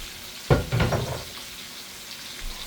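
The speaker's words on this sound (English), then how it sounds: "I'm going to take my onions and I'm just going to throw them on top" Onions tossed onto liver steaks in hot oil: a sudden sharp hiss flares as they land, then settles into a fainter, steady sizzle that trails off, with no voices.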